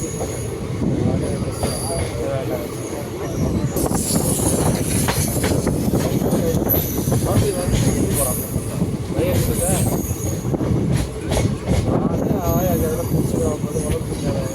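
The Garudadri Express, running from Tirupati to Chennai Central, pulls through Tiruvallur station, loud and close with wheels squealing on the rails and clattering carriages, while people talk in the background.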